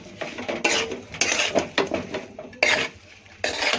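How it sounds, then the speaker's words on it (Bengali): Metal utensil scraping and clanking in a cooking pot while spices are stirred and mixed for a goat head dish, a series of irregular, fairly close knocks and scrapes with short pauses between. "এখন সব মশলাটাকে আমি ভালো করে একটু মিক্স করব।"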